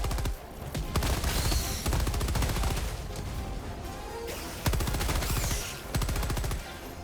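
Orbital barrage in Helldivers 2 pounds out a dense, continuous stream of rapid explosions and gunfire-like cracks, loud and close, with a few sharper surges near the end and no speech.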